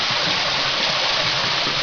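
A small waterfall, roughly three to four metres high near Cherkasivka village, pours in a steady, dense broadband rush of falling water, close and continuous with no voices.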